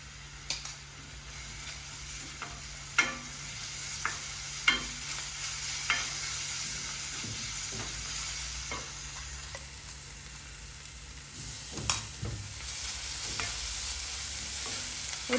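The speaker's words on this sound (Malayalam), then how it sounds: "ആദ്യം നമുക്ക് ഇതിനകത്ത് ഇഞ്ചി വെളുത്തുള്ളി പച്ചമുളക് പേസ്റ്റ് ഇടാം." Ginger, garlic and green chilli paste frying in a pan for egg roast, a low steady sizzle broken by scattered close spatula knocks and scrapes over a faint background hum, with no speech.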